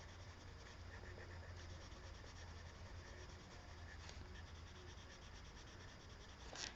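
Pencil shading on paper in a watercolor and pencil drawing, a soft steady scratchy rubbing that goes on without a break, faint and close, with no voices.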